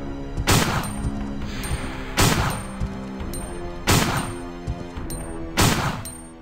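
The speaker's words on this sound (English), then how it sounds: "Four shots." Four heavy, spaced gunshots from the video game Resident Evil 2, each a loud booming crack with a ringing tail, fired at roughly regular intervals with quiet gaps between.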